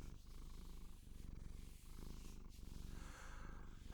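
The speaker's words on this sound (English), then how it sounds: "I can actually feel you purring, you know? It's like your whole body is rumbling." A cat purrs in a continuous low rumbling rhythm, very close and soft, with steady breath-like pulses and no talking.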